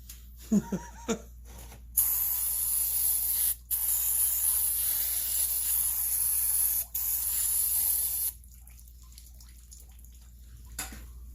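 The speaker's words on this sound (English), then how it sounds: "Now shoot a little brake cleaner up in there." Brake cleaner sprays from an aerosol can into the engine of a McCulloch 10-10 chainsaw. Several long, loud, close hissing bursts are broken by short pauses, with a few clicks before and after.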